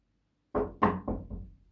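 Someone knocks on a door four times with a heavy hand, the thuds loud and close and sounding after a moment of silence.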